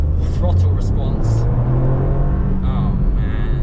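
A Toyota GR Yaris with a manual gearbox rumbles as its engine responds to the throttle, heard from inside the car with a voice speaking over the steady drone.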